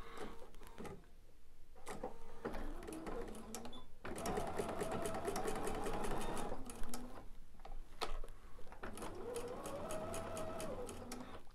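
A sewing machine stitches quilt block seams in steady close bursts of rapid mechanical whirring, with brief pauses between runs and faint handling noises in the gaps.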